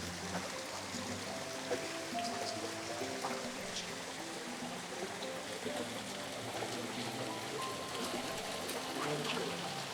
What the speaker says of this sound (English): the waterfall is calling my name